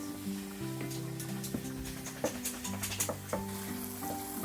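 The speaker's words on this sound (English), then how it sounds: "our onions, you can see, just starting to lightly brown" Onions fry in a pan with a soft, steady sizzle, broken by occasional clinks and scrapes of stirring, heard close up with no voices.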